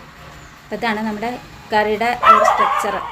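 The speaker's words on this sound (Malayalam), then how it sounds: "അതിൻ്റെ ഇടയിൽ കൂടെ നിങ്ങൾക്ക് അവൻ്റെ കുരയൊക്കെ കേൾക്കാം" A dog barks at a gas delivery truck, three short bursts of yelping barks spaced about a second apart, close by, with a person talking between and over them.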